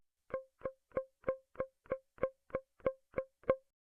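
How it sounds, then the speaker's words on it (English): Eleven short, muted guitar plucks repeat at a steady, even pace, each note thudding briefly and dying away quickly with no talking. "plucking a palm muted note that sounds like this"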